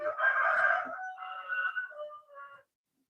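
A rooster crows at a poultry farm, a single loud, fairly close call of about two and a half seconds that breaks into stepped, wavering notes before stopping.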